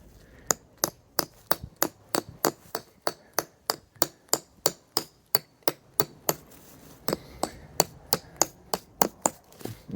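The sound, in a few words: mallet hammering pegs into the ground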